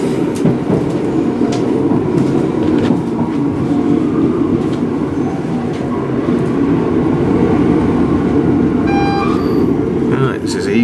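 A train rumbles steadily at a railway station on the Durham to Bishop Auckland line, a loud continuous low roar with clattering and faint squeals near the end, while a voice talks over it.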